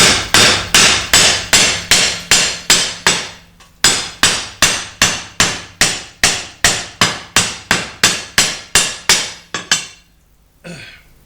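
Sharp, evenly spaced hammer blows ring out on a sheet-metal bobber motorcycle fender, about two per second, loud and close, pausing briefly midway.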